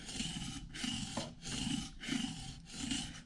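Woodworking gouges are sharpened with a steady back-and-forth rasping stroke, about five strokes in a regular rhythm, close and fairly quiet with no talk.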